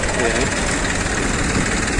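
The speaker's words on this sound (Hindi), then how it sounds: "अरे ट्रैक्टर है" A tractor engine idles steadily at a tractor and camel rally in Mithi, Tharparkar, a continuous rumbling drone with voices faintly in the background.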